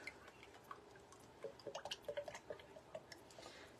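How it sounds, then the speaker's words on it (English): Olive oil poured into a big pitcher in a home kitchen: faint, quick trickling and dripping plinks that cluster into a soft gurgling run midway, all very quiet. "I am going to add just some of my olive oil"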